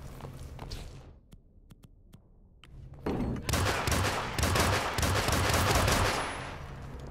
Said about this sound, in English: Santa used the loud gun by accident.